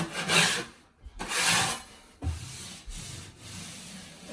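Abrasive back-and-forth rasping of sandpaper on a textured bathroom ceiling, close and fairly quiet, in several distinct strokes separated by short pauses.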